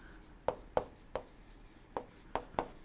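Chalk or pen strokes on a board while lecture notes are written, a series of sharp scratchy taps in an irregular rhythm, close and fairly quiet in a still room.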